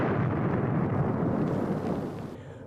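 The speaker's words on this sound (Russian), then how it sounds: "Это самый настоящий ядерный взрыв." A deep, roaring nuclear explosion rumble, loud and sustained, slowly fading over a couple of seconds with no voices.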